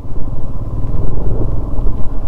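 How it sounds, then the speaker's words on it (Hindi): Off-road motorcycle climbing a steep, muddy uphill trail near Bijli Mahadev Temple in Kullu, its engine a loud, close, continuous low rumble throughout. "बाइक स्पीड मार रही है, चढ़ाई प्लस मिट्टी।"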